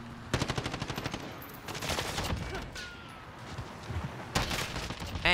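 FAL rifle fire in a first-person shooter game, fast close bursts of shots in rapid rhythmic strings, with a scatter of more distant gunfire and game noise between them.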